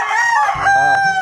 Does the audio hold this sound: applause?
no